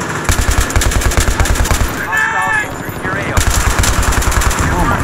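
M240B machine gun fire in the video game Battlefield 3, loud rapid bursts of rhythmic shots that pause briefly mid-clip and then resume.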